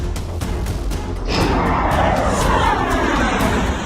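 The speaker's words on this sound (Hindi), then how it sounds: "आसमान में उड़ते रूसी फाइटर प्लेन्स।" Russian fighter jets roar overhead, a broad rushing jet noise that swells suddenly partway through and stays loud and close to the end, with no voices.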